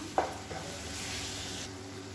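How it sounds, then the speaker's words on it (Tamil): Ground tomato paste being sautéed in oil for egg salna, a faint, even sizzle with a light stir near the start. "இதையும் சேர்த்து நல்லா எண்ணெய் பிரிஞ்சு வர அளவுக்கு வதக்கிக்கலாம்"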